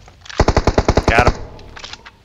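Rapid burst of about ten loud Groza rifle shots in PUBG Mobile, evenly spaced and close, followed by a few fainter game sounds.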